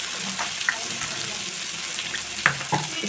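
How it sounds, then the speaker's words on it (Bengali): A ground paste of cumin and green chili sizzles and hisses steadily in a pan as a little water is added, with a few soft clinks and splashes near the end. "একটু জল দিয়ে ভালো করে মশলাটা কষিয়ে নেব।"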